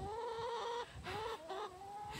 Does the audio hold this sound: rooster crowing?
yes